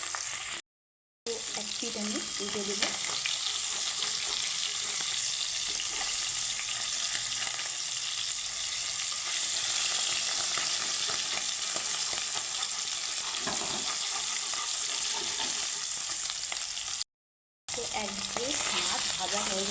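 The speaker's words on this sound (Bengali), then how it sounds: "মাছটাকে আমি একটু করে লাল করে ভেজে নেবো" Tengra fish frying in oil in a pan for a tomato and potato fish curry, a steady loud sizzle running throughout with two brief dropouts, no talk.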